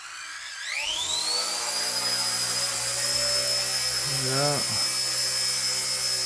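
RC ERA 1/48 scale Huey model helicopter with a fresh battery spins up and flies while attempting a heavy lift, a loud close rising motor whine and rotor buzz that holds steady and dips briefly, with a short spoken word.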